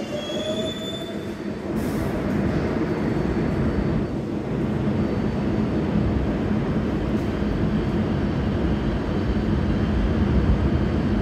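Close and loud, a subway train on a CBTC-signalled line rolls into the station with a continuous rumble of wheels on rail and a brief high squeal near the start, steady throughout.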